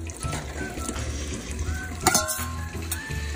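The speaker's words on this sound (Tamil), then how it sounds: "இப்போ வந்து நம்ம வந்து சிக்கன் போட்டுருவோம்" Country chicken sizzles in hot oil in a kadai for biryani, with close frying hiss, stirring and a sharp metallic clink of a utensil against the pan partway through.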